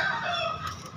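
A rooster crows at a busy chicken market on Jalan Bhayangkara in Tamalate, Makassar, its long call running close and loud through the whole second over a steady murmur of market noise.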